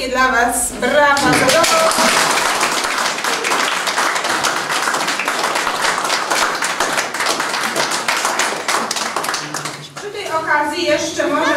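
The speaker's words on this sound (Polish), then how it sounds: "jeszcze raz wielkie dla Was brawa" Workshop participants at a cooking workshop in Zbiczno clap loudly and steadily, a dense sustained applause filling the room with brief voices at the start and end.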